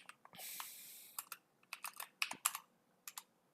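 Quiet keystrokes on a computer keyboard during game-development coding: a short burst of rapid typing, then scattered separate key clicks with small pauses, close and soft, with no talk.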